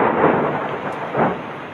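A loud, close thunderstorm in the Mayureswar area: deep rolling thunder swells twice over a continuous wash of heavy rain.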